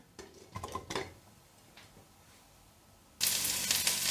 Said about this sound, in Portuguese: E vamos fritar o alho, o gengibre e a cebola